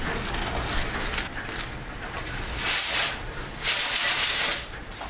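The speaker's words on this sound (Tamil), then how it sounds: "இதை வந்து 3 விசில் விட்டு எடுத்துக்கலாம்." Pressure cooker hissing loudly as steam escapes, a steady hiss swelling in two strong bursts near the end, with no voices.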